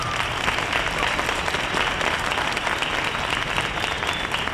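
Dense, even applause from a crowd at a cold-night community event with a mayor, continuous and close throughout without a break.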